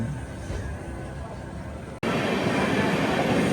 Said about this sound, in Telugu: Seshadri express at Anaparthi